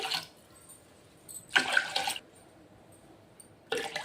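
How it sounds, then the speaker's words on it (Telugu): Water poured from a cup splashes into a pot of rice porridge with milk, three short close gushes separated by quiet pauses. "ఇప్పుడు ఇదే కప్తో నాలుగు లేదా ఐదు గ్లాసుల వరకు కప్పుల వరకు వాటర్ అయితే పోసుకోవాలి"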